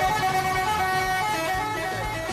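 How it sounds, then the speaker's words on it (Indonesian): A bus horn sounds a loud, sustained telolet melody of stacked tones, continuous across the whole moment, a roadside crowd-pleasing musical klakson with a faint murmur beneath. "meminta pengemudi bus membunyikan klakson"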